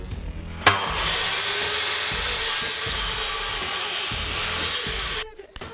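A wooden batten is cut at an angle with a hand saw, a sharp knock at the start followed by a steady, close rasping stroke that runs for several seconds before stopping.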